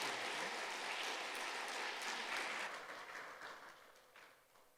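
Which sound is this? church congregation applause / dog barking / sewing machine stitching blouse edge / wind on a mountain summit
church congregation applause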